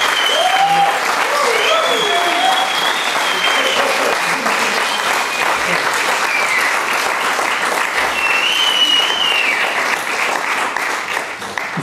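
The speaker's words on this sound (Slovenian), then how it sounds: "Jaz bi en aplavz za vse, ki so nastopili, če ste za to." Sustained audience applause for performers at a festival awards event, dense clapping from a large crowd that holds loud and steady throughout with a few faint whistles and calls.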